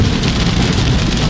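Heavy rain hisses loudly and steadily around a car crossing the Bay Bridge, a dense wash of drops on the roof and windshield mixed with low road rumble, with no voices.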